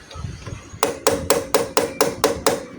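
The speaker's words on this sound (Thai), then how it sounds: "เราใช้ค้อนตอกนะครับ ตอกเข้าไปนะครับ" A hammer taps a screwdriver into a brake master cylinder with seven crisp, evenly spaced metallic strikes close by, after a brief quieter rustle.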